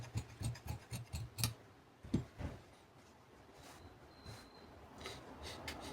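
Scissors cutting coat fabric along a chest-shaped front panel with a seam margin left, giving a quick run of crisp snipping and rasping cuts, then softer, sparse rustles and scrapes close by with no talking.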